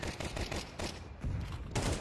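Counter-Strike 2 gunfire comes as rapid bursts of automatic shots with short gaps between volleys, moderately loud and continuous through the clip, with no speech.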